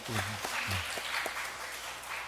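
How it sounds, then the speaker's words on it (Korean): A church congregation claps for a young member home on leave from military service, a soft, fairly distant round of applause with a few brief voices at the start. "우리 박수로서 좀"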